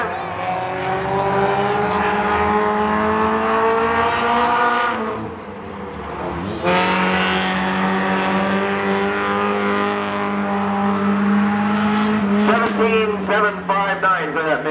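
Hornet race cars at Agassiz, loud engines revving and droning around the track with rising and falling pitch, a brief dip as cars pass before the roar surges back, with a voice speaking over the engines.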